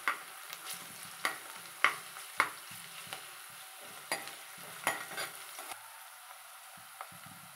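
Onions with ginger garlic paste fry in a pan under a soft sizzle, punctuated by sharp spoon clacks and scrapes against the metal as the mixture is stirred, briefly quieter near the end.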